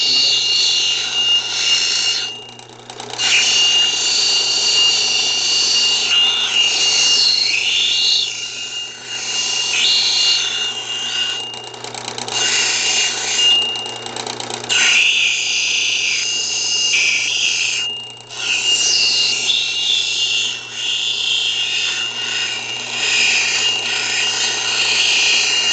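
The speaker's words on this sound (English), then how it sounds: "So we'll grind off all these edges." A power grinder shapes a rough stone into a round marble, taking the edges off with a loud, continuous high-pitched whine that rises and dips as it bites, with short breaks between passes and no talking.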